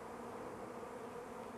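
A steady, close drone of many honey bees fills the whole stretch without pause, buzzing around a bee package as it is installed.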